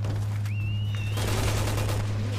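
Gunfire in the video game Resident Evil 6, bursts of rapid shots over a constant low drone and game effects, with a whistling tone sweeping through, loud and busy without a break.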